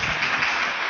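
A church congregation applauding during a Portuguese-language worship service, a brief, steady wash of many hands clapping together at close range.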